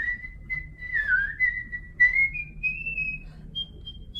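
A person whistles a tune, a clear solo melody of sustained, sliding notes that rise in pitch toward the end, close and unaccompanied over faint background hum.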